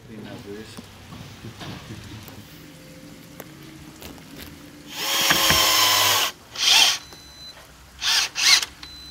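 A power drill drives screws from below into wooden balcony stair treads fixed to aluminum angles with spacers. One longer whirring burst is followed by several short spurts over a quieter background of workshop murmur.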